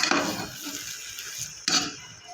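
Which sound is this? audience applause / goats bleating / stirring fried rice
stirring fried rice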